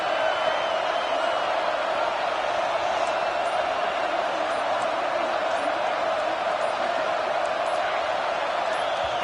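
A stadium crowd at a football game roars steadily and loudly throughout, a dense wall of sustained noise with no pauses.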